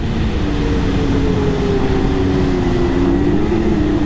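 Steady, loud engine drone of a 2024 Ski-Doo XRS snowmobile held at 8,000 RPM on a sunny trail ride at Mont Valin, a continuous high whine with a faintly wavering pitch and no talking.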